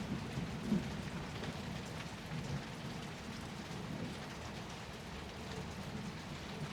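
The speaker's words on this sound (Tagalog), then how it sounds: "Ang lakas ng ulan." Heavy rain pours steadily on a small rice farm, a dense, constant hiss of drops on surfaces with low thunder rumbling faintly underneath.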